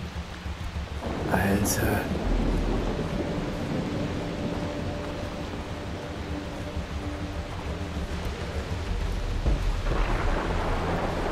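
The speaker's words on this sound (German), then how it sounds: "Es fing gleich an zu regnen. Und zu gewittern." Rain pours and thunder rumbles during a storm in the video game Far Cry 3, with a loud crack early on and a sustained wash of rainfall beneath it; someone speaks briefly over the storm.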